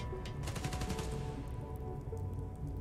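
Rapid automatic gunfire in Spider-Man: Miles Morales, a quick rattling burst of shots at moderate distance that fades into a low background hum.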